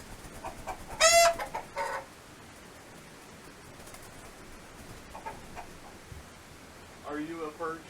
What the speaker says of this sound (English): Are you a perching chicken?